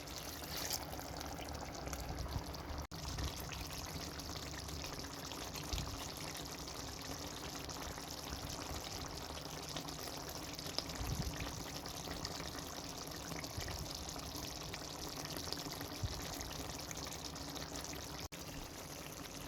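Water is poured into a pot of mutton rezala, a soft, continuous trickle and splash that runs quietly and steadily throughout with no voices.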